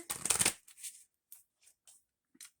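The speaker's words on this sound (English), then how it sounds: "They've been pre-shuffled, but I'll give them a final shuffle to make sure." A burst of tarot cards being shuffled up close, then several softer scattered riffles and slides, quiet and intermittent with no talking.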